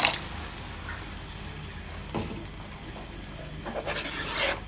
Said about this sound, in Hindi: अब हम इसमें थोड़ा सा पानी ऐड कर देंगे